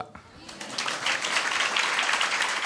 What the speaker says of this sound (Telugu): గట్టిగా చప్పట్లు కొట్టి వారిని అభినందిద్దాం